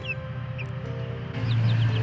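Naked neck frizzle chicks cluck and peep close by, with a few short high chirps over a low steady murmur of clucking that grows a little louder toward the end.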